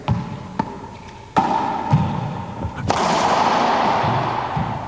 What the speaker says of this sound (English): Ball's hitting low on the side wall, travels straight into the front wall.